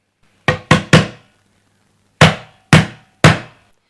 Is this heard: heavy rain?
no